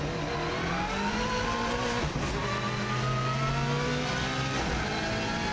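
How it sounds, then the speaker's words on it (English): Hard braking and downshifts into second gear on a rally car at racing speed on the Isle of Man TT course, approaching Ramsey Parliament Square; a loud, continuous engine roar with shifting pitch and a brief dip midway. "real hard braking all the way down into second gear for"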